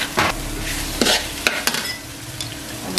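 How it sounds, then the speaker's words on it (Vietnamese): Vegetarian mushroom 'beef' cubes get a quick, light stir-fry in a pan, with close, loud bursts of sizzling and several scraping utensil strokes over a steady frying hiss. "Bây giờ mình chỉ xào sơ nha các bạn"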